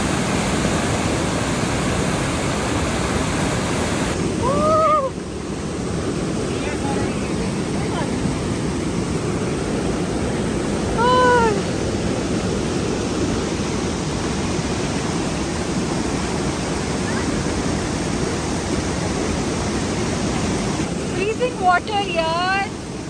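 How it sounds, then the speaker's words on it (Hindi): Loud rushing blue river water in Gilgit, a steady roaring wash of fast-flowing current heard up close for the whole stretch, with brief faint higher tones and a little wind buffeting the microphone. "इस कदर रवानी से बहते हुए इस नीले पानी का बहुत ज़्यादा शोर था।"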